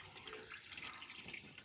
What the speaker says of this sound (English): Plenty of engine oil pouring out, lovely and black.